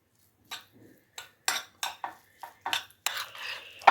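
Chicken being mixed with white pepper and mayonnaise, a spoon scraping and clinking against a bowl in a string of short, close strokes about every half second, with no talk.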